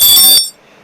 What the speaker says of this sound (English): so it's a Sarna greetings bell.